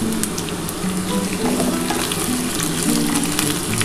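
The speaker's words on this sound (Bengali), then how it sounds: "আলুর সাথে পেঁয়াজটা কিন্তু আমি একেবারে ভাজবো।" Chopped onions sizzle and fry together with potatoes in a hot pan, a steady close crackle of oil with occasional stirring clatter, and no talking.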